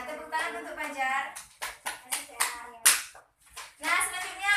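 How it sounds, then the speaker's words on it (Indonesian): Classroom applause for a student during a micro-teaching lesson, a few bursts of children's hand claps in uneven rhythm, mixed with children's voices and a teacher talking close by. "Nah, tepuk tangan untuk Fajar."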